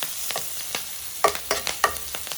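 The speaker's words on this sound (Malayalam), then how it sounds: "ഇനി ഓരോരോ സാധനങ്ങളായിട്ടിട്ട് നമുക്ക് അത് വഴറ്റിയെടുക്കാം" Chopped green chillies sautéed in pure coconut oil, with a gentle sizzle under a series of distinct spatula strokes, about eight close scrapes in an uneven rhythm that cluster toward the end.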